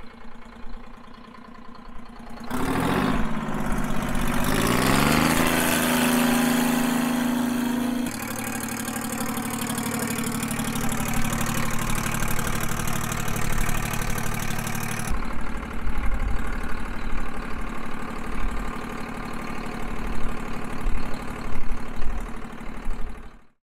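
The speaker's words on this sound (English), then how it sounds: "here's an Oliver GM diesel." An Oliver GM diesel tractor engine runs close by, a steady low rumble with a rising rev partway through, then settling back into a rough, knocking idle that continues alone.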